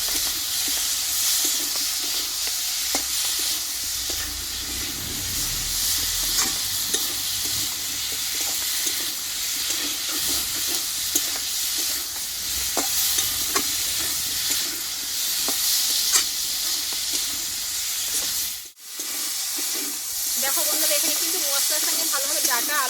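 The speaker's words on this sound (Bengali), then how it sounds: "এবার কষে রাখা ডাটা আর আলুটাকে আমি দিয়ে দেবো এই মশলার সঙ্গে আলু কিছুক্ষণ আমি ভালোভাবে কচিয়ে নেবো" Potatoes and vegetable stalks sautéing in spiced oil for a Bengali moong dal, a steady hiss and sizzle with intermittent stirring scrapes, close and continuous, with one short drop in sound near the end.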